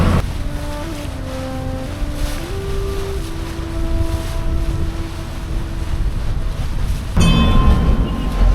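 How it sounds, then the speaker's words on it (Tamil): A ferry boat chugs along the Alleppey backwaters, its engine droning steadily with tonal hums under wind and water wash, growing louder near the end. "அந்த ஃபெரியில் தான் வந்தேன், அது போய்கிட்டு இருக்குது"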